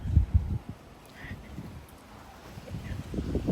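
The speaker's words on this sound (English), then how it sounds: "There goes a wind." Gusty outdoor wind buffets the microphone in low rumbling bursts, strongest at the start and again near the end, with a quieter lull between.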